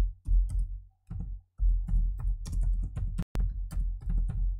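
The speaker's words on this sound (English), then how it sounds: "we're going to press F9 on the keyboard" Keys tapped on a computer keyboard in a series of close, muffled thumps, irregular clusters of presses separated by short pauses, with no talking.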